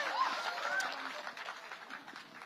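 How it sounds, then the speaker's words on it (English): An evening audience at a motivational talk claps briefly, a light, scattered patter of hands with a faint voice or cheer over it, fading within a couple of seconds. "Big round of applause, guys."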